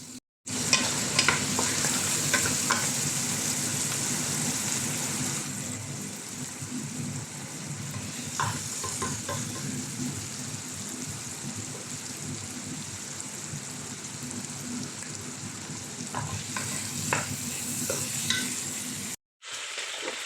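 Ingredients for German beef Rouladen are stir-fried in a pot that was used to brown the beef. A sustained, rain-like sizzle runs under intermittent stirring scrapes and ends in a brief silent break before it resumes.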